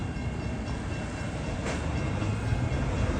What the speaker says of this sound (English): Amtrak 747 going to San Jose Dearborn Station. 105th Avenue crossing.